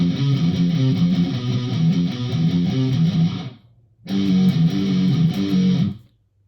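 An electric guitar plays a riff with power chords, chugging in a fast, driving rhythm, loud and close, stopping briefly before a second pass that then cuts off.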